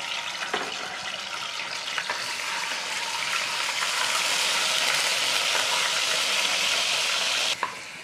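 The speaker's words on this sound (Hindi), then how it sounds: "तेल गरम हो रहा है इसमें अदरक लहसुन का पेस्ट एक चमचा डालेंगे" Ginger-garlic paste hitting two tablespoons of hot oil for a green mutton Mughlai curry, a loud, steady hiss and crackle that fills the whole stretch with a few sharp clinks of a spoon.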